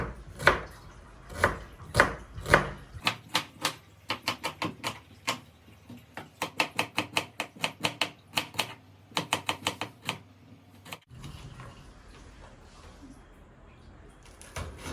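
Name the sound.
knife chopping onion and green chilli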